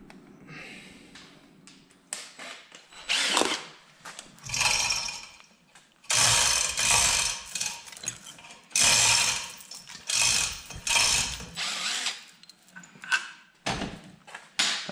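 Power tool unscrewing the gearbox plate on a Case Magnum tractor with a Powershift transmission: repeated bursts of loud mechanical whirring and ratcheting, several seconds each, separated by brief pauses, close to the microphone.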